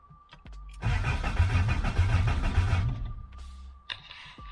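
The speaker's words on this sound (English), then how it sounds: "She cranks over." A Toyota TE72 with a swapped 4AGE engine cranks and catches, a loud, steady rumbling burst lasting about three seconds close to the microphone, then fades to a quieter idle with a brief blip near the end.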